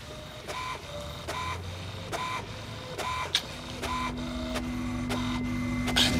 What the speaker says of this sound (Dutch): niks marcheert hier en die printer die gaat wel.